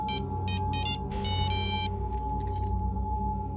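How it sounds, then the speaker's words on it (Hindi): A phone ringing with a call from home, electronic tones sounding in several short bursts, then one longer ring, over a steady low rumble of background music or room noise. "जी वो घर से फोन है।"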